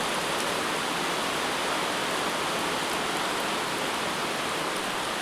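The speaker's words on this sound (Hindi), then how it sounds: "और अब तेज हो चुकी है बारिश" Heavy rain pours down in a dense, steady hiss with no break, loud and close, drowning out everything else.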